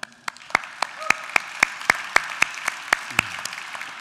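Conference audience applause, heard as a sparse run of evenly spaced sharp claps, about three per second, fairly close and moderately loud over a quiet room.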